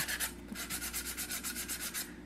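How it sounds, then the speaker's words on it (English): An old nail file sanding stick rubbing wood smooth, a quiet rhythmic series of about a dozen short scratchy strokes in quick steady succession, close up and alone. "And I just use old nail files sanding sticks."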